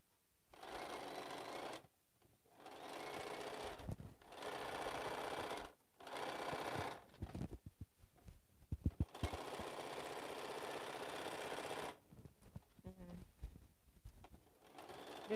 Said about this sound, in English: This little stitching to just give them another little line to hold this in place for a little longer.